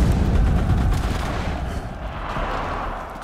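Loud, sustained battlefield gunfire and heavy booms roll continuously in the World War II shooter game Enlisted, with a tank firing amid the dense, rumbling barrage and no talking.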